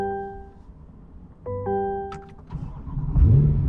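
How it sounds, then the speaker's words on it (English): A C8 Corvette's engine comes back on, settling from a steady idle into a rising rev as the car pulls away, close and fairly loud with no talk over it. "it turns the vehicle back on, put it back into drive, and off and running we go"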